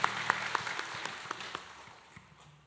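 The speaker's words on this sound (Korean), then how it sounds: "우리와 함께 하시는 하나님께 감사의 박수 올리겠습니다" A church congregation at a Sunday worship service claps in thanks. Loud individual claps ring out near the start, then blend into a softer spread of applause that fades away.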